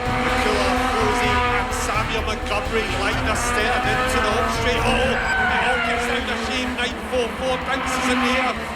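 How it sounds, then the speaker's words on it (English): In a racing video game, a race car spins out during a championship battle. A loud, constant engine roar blends with squealing tires and skidding, and the sound stays dense throughout. "McCullough spun around and it's Rosie in 9:44 into the lead."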